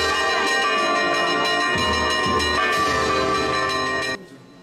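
Church bells ring out continuously, loud and reverberant with layered ringing tones, for a Holy Week procession in a Sicilian village before stopping abruptly near the end.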